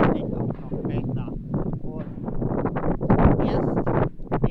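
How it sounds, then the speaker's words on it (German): Gusty wind on New Year's Eve buffets the microphone with low rumbling bursts while a person talks over it in German. "er ist super windig."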